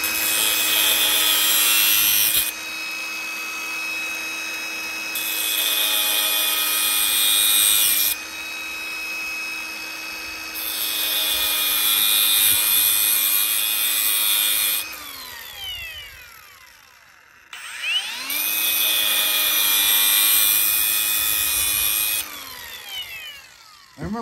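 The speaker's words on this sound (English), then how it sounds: "if you're not proficient with a grinder, don't do this shit." An angle grinder with no guard cuts metal during a Nissan car install, loud and steady in long bursts with brief pauses, the pitch sagging as the disc bogs down and spinning back up between cuts.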